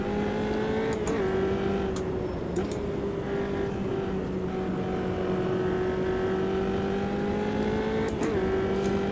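Race car lapping a track in the racing sim Automobilista 2 on cold tyres, heard from the cockpit: a steady, sustained engine drone throughout, with occasional shifts and brief clicks, fairly loud and continuous with no talk.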